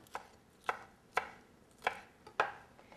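A knife chops fresh scallions on a cutting board with five crisp, evenly spaced strikes, close and quiet, with no talking.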